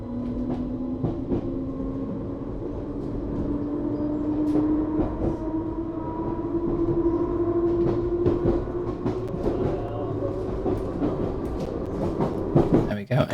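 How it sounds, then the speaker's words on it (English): A Class 484 electric train pulls away in Train Sim World 2, its traction motor whine rising steadily in pitch over a low rumble, with rail joint clunks knocking irregularly throughout and growing louder toward the end. "you can hear the train actually pulling off"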